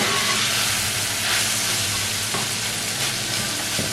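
Beans curry fries in a hot pan with a loud, dense, steady sizzle and hiss, while occasional stirring scrapes and knocks sound close by.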